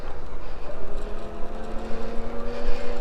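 An Avaka R1 commuting e-bike's electric motor runs on throttle, giving a steady whine that climbs in pitch as the bike speeds up, over continuous wind and road rumble.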